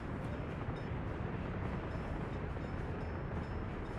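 A train rolling past in the Workers and Resources city-building game, a steady broadband rumble with no distinct clacks, continuous and moderately loud.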